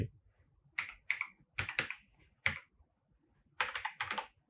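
A bike registration number is typed on a computer keyboard into an online insurance form. Several short bursts of close, crisp keystrokes are separated by brief pauses.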